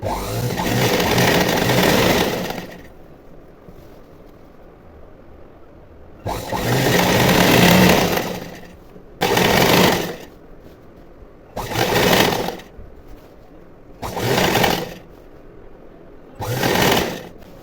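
A sewing machine stitching a fall onto a saree runs in bursts: one long run, a pause, another long run, then four short runs evenly spaced, close and loud with quiet gaps between.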